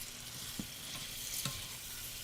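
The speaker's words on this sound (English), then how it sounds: "you cook little bit of the shrimp first so the fish smells goes away" Shrimp sizzling in a hot pan, a steady soft frying hiss with a couple of light stirring scrapes, no talking.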